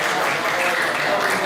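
Steady, dense applause from a live audience at a Hindi comedy and humour event, continuous and fairly loud throughout the short stretch with no voices over it.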